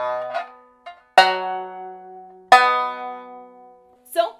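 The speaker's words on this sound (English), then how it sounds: "Here is my sound after I've lowered the pitches." A few plucked shamisen notes with lowered string pitches sound in a sparse sequence, two strong twangy strikes ringing low and sustained between lighter touches.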